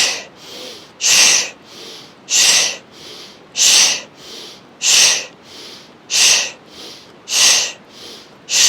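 Rhythmic yoga breathing, drawn in through the nose and released out through the mouth, repeats as loud close airy breaths about every 1.2 seconds, each strong exhale followed by a softer inhale, with no talking.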